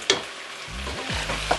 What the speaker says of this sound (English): So to stir occasionally so it doesn't stick or get